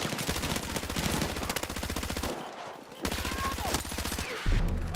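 Rapid automatic gunfire in Battlefield 6, long dense bursts of close shots broken by a short pause, then more firing ending in a heavy impact.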